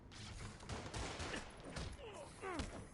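Gunfire from thugs in Marvel's Spider-Man Remastered, scattered shots crackling against a busy, noisy game mix, with swooping effects and a brief faint voice near the end.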